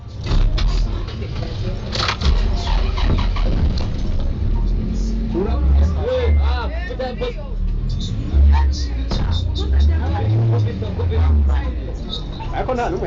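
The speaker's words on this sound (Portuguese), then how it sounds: "O nosso carro avança e as pessoas continuam pedindo dinheiro." A car drives along a rough road in Burundi, its engine and rattling body making a steady rumble with clanks and jolts, while voices talk and call out over it throughout.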